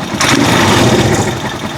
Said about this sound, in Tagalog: Yan, napaka-tahimik ng kanyang engine.